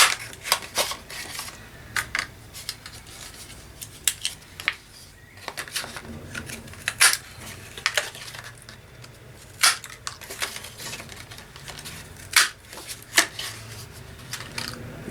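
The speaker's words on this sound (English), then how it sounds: "I found a bit of cardboard, that'll do me. Okay, we'll cut a couple of circles." Cardboard being cut into a couple of small circles, about an inch across, while working on a folio journal: a run of short, crisp snips and crunches in irregular bursts, close and moderately loud, with no talking.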